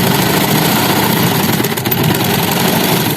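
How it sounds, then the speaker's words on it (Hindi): A sewing machine runs continuously while stitching a shirt collar, a loud, close, steady mechanical whir and hum without pauses or speech. "अब यहाँ से इसकी सिलाई पूरी कर देंगे"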